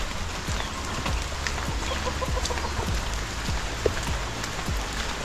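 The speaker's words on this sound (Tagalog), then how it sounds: "Kala ko kung baboy. Manok pala." A chicken clucks in short repeated bursts, fairly close, over a constant wash of rain pattering on a surface.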